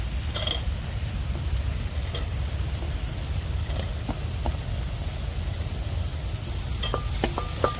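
Chopped tomatoes go into frying masala for egg biryani, giving a dense continuous sizzle with a low rumble beneath and a few scattered clicks and scrapes from the pan.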